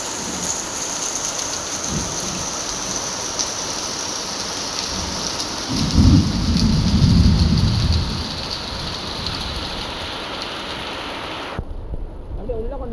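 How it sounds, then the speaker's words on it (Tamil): Heavy rain pours steadily during a village downpour with the power cut, a dense close hiss throughout, with a deep rumble of thunder swelling midway before the sound cuts off abruptly near the end. "மழை வந்துருச்சு."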